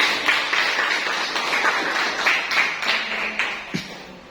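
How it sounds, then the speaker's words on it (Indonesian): Group of people in a classroom applauding a presenting group, a short burst of brisk, close clapping that tapers off after a few seconds. "Tepuk tangan untuk kelompok"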